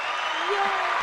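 Brief burst of clapping applause on a sports talk podcast, a dense even patter filling the short moment with no talking over it.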